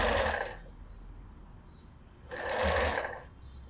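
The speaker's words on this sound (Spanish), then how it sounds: "Entonces, lo coso ahí a medio centímetro." A sewing machine stitches a seam half a centimetre from the fabric edge while making a pair of Bermuda shorts. There are two steady bursts of rapid stitching, separated by a quieter pause of about two seconds.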